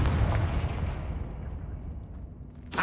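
A Confringo blasting spell in Hogwarts Legacy lands as a heavy, near explosion, its rumble fading over a couple of seconds before a fresh burst of noise at the very end.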